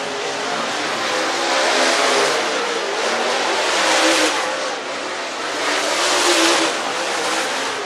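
A dirt track race car with a Coltman Farms Longhorn chassis, number 57, roars around Screven Motor Speedway in Sylvania, Georgia, its engine a loud sustained rasp that swells and fades twice as it passes.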